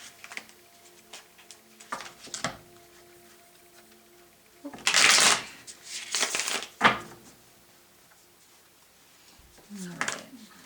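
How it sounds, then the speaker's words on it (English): Bursts of tarot card shuffling, with quick riffling rustles and soft taps scattered between short pauses, close by and fairly quiet. "One more shuffle, please, for Leo."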